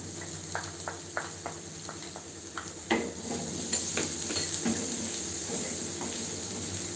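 Green chilli and chopped capsicum hit a hot iron pan, raising a steady sizzle and hiss with scattered stirring clicks and scrapes, close and moderately loud with no voices.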